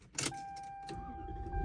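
A 1992 Lexus SC400 engine is cranked and catches into a steady low idle, heard up close from inside the car alongside a steady electronic chime tone and a faint click.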